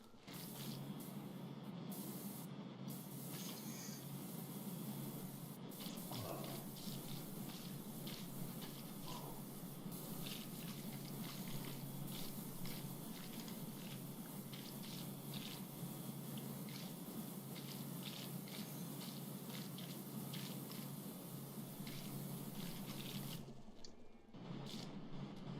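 A pressure washer in PowerWash Simulator 2 sprays a steady hissing jet of water, continuous and fairly quiet, with brief gaps near the start and toward the end.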